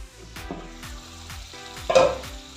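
Fish sizzles steadily while frying in a pan, with soft scraping stirs and a louder sizzling burst partway through, close and alone without talk.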